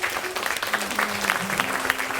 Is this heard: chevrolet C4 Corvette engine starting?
no